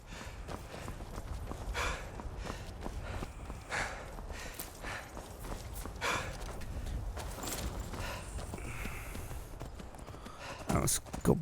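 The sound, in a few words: horse hooves galloping in video game Skyrim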